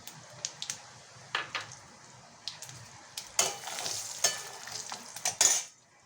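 Cashews and whole spices (cumin, cloves, cardamom and cinnamon) fry in oil and butter in a pan. Scattered light scrapes give way to louder sizzling bursts and stirring near the end.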